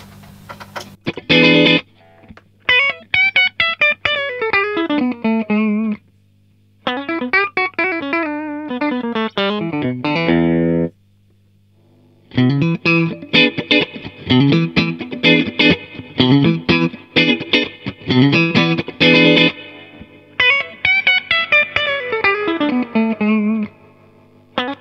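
Electric guitar re-amped through a Vox AC30 amplifier plays a sequence of close, loud picked phrases and sliding runs, with short pauses between bursts and a ringing, effects-laden tone.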